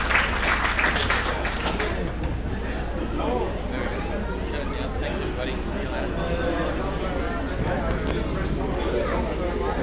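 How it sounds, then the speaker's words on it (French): Audience applause after a sailing press conference at the Stade de Melun: dense, steady clapping fills the whole stretch, loudest at the start and holding level throughout, with crowd chatter mixed in. "On peut encore l'applaudir s'il vous plaît."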